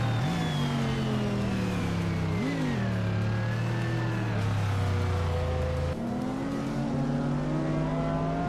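Race cars, including a 1999 Lamborghini Diablo, in a racing video game at a raceway, loud engines droning and revving with pitch shifting as gears change, continuous and close.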